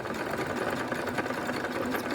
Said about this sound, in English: I'll show you how I stitch it together. Just using a zigzag stitch